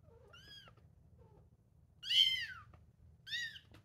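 Kittens meow in three separate calls, a short one early and two louder, longer cries later, over a low steady hum with no talk.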